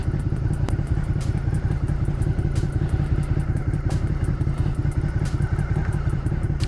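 Motorcycle rides on gravel on a riverside outing, its mid-pitched engine chugging steadily near at hand over a constant rough crunch and clatter of stones under the tyres.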